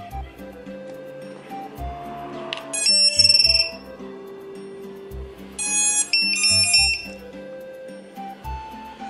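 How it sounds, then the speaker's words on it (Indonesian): A newly wired buzzer sounds in two loud, shrill bursts, each lasting about a second, over an underlying electronic tune with low thumps. "Teman-teman bisa mendengar buzzernya itu sangat besar sekali ya"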